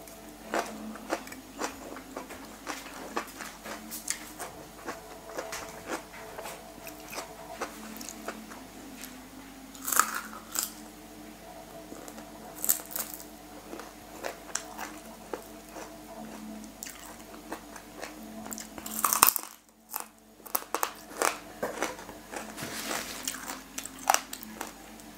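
Someone eats a spicy Thai Mama instant-noodle salad with mushrooms and crab fat, chewing with close, repeated crunches and soft crackles. The crunching stays fairly quiet over a low background hum.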